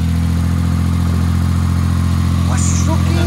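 A car's engine runs loud and close with a steady idle rumble throughout, right after it has started up during a repair, with a brief higher whine near the end and no clear speech.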